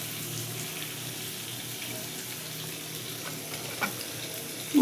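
Water spinach being drained in a home kitchen gives a steady broadband rush of running, splashing water, close and continuous, with a brief clatter right at the end and no voices.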